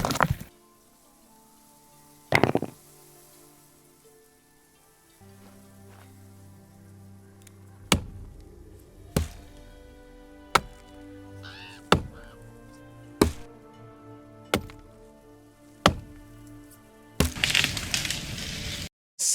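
Harvesting effects from an early access video game: a series of sharp chopping and cracking hits, roughly one every second, over a low musical drone, with a louder noisy burst near the end. No talking.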